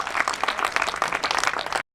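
An audience at a housing society's annual general meeting breaks into lively applause, a dense crackle of many hands that runs steadily before cutting off abruptly.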